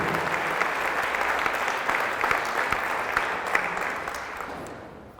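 A church congregation applauding at a Catholic healing service, dense steady clapping from many hands that fills the room for several seconds before tapering off at the end, with little talk over it.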